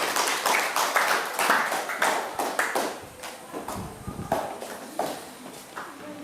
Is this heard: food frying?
no